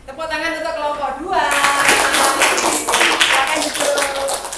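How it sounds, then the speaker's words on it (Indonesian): A classroom audience applauds a student group after its presentation, dense broadband clapping that swells in about a second and a half in and continues steadily, following a brief spoken voice at the start. "Tepuk tangan untuk kelompok 2."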